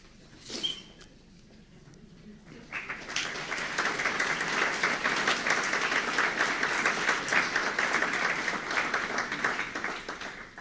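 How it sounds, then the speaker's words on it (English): A conference audience at an opening plenary breaks into sustained applause after a short pause, the dense clapping of many hands building quickly and holding loud and steady to the end. "I don't know why you're clapping."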